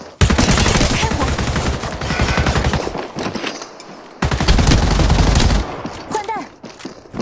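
Heavy automatic gunfire in Apex Legends, two long loud sustained bursts split by a brief pause, with rattling rapid shots close up.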